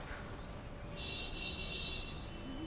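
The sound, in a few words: baby birds chirping in a bird cage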